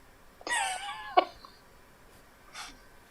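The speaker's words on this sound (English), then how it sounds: "Cat." A single short meow from a nearby cat, followed by a faint, softer sound from it a moment later in an otherwise quiet room.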